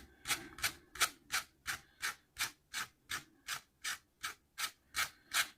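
Hands rub and tease strands of hair from the tips upward, producing a steady series of about fourteen soft, close, rhythmic rubbing strokes, evenly spaced and heard alone.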